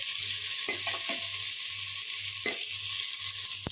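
Finely chopped potatoes fry with golden-browned onions in a pan, a constant bright sizzling hiss with a few spatula scrapes over a low pulsing hum from the stove.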